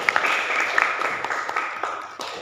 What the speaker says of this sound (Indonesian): Kita berikan tepuk tangan untuk kelompok 1 tentang menghindari hidup berfoya-foya